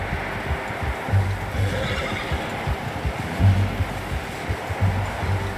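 A horse whinnying in Red Dead Redemption 2, the neighs rising above a rushing, surf-like wash of background noise with faint hoof sounds, and nobody speaking.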